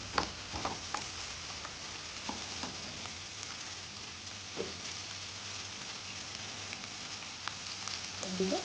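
Curry leaves and garlic sizzling in a frying pan while cooking Dondakaya pesarapappu, a steady soft crackle and hiss with occasional small pops, continuous and fairly faint throughout.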